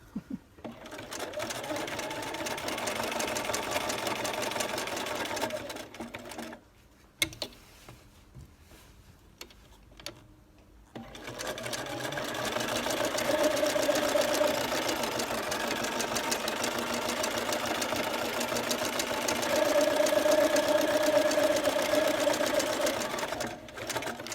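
A sewing machine runs in fast, steady bursts while stitching a lace hem on a skirt, stopping briefly in the middle before starting up again for a longer stretch, close and fairly loud.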